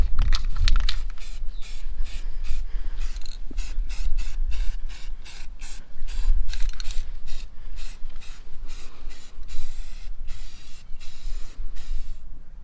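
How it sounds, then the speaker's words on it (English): Primer being spray-painted onto a truck hitch from an aerosol can, a series of rhythmic hissing bursts separated by short pauses, close and fairly loud. "So I'm gonna get started on the hitch with the primer."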